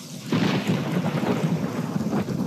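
A rainstorm with thunder in the tactical video game Silent Storm: a deep rumbling roll of thunder over a steady wash of heavy rain, loud and continuous with no voices.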